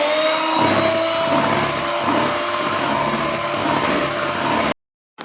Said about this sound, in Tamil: இப்போ நெக்ஸ்ட்டு மில்க் விட்டு பீட் பண்ணிக்கலாம்